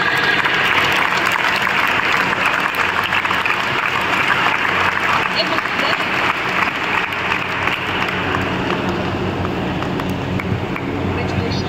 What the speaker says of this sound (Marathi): जोरदार टाळ्या पाहिजे.